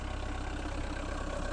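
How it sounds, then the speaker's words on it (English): A camper van's engine idles on a shingle beach, a steady low rumble with a faint knocking pulse, moderately quiet and continuous, with no voices. "I've just got the engine running."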